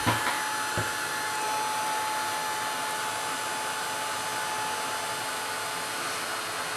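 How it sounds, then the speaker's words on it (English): A heat tool blows steadily on a paper tag to dry paint, a continuous close whirring hiss with a faint click at the start and no talking. "Then I take my heat tool"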